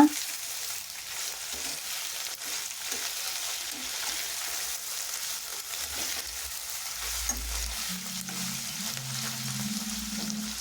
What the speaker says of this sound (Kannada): ಹಸಿಮೆಣ್ಸಿನ್ಕಾಯಿ ಸೇರಿಸ್ಕೊತಾ ಇದ್ದೀನಿ ಎಲ್ಲವನ್ನು ಮಿಕ್ಸ್ ಮಾಡ್ಕೊಳ್ಳೋಣ